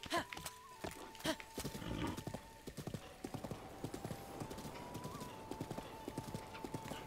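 Horse hooves clip-clop in a rapid, uneven galloping rhythm in the video game Breath of the Wild, sharp close impacts repeating over a steady tonal game music line, with an occasional whinny.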